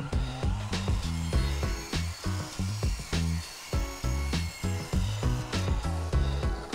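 Aluminum or stainless steel tube being cut for pie cuts, heard as a steady run of quick, even cutting strokes with a ringing metallic resonance, close and fairly loud throughout.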